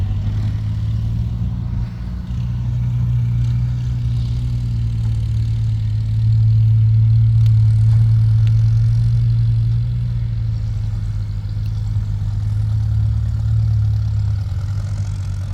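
A Kobelco SK200 Mark 10 excavator digging a pond in wet soil gives off a loud, steady low diesel rumble that holds unbroken throughout, swelling slightly midway, with no voices.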